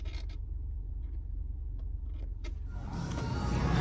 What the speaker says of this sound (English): I'm riding on a cart right now